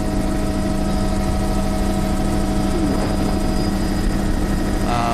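Steady, loud helicopter rotor and engine drone heard from aboard the helicopter in flight, with a constant low thrumming hum and whine, no talking.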